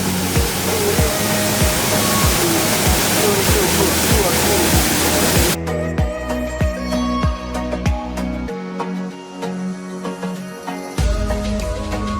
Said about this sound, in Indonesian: Lihat sendiri air terjunnya, cantik bener.